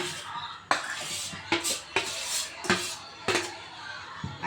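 A spoon scrapes and clinks against a pot while grated potato is mixed into cooked sabudana, a series of sharp metallic knocks and scrapes at an uneven rhythm, close, with soft background voices.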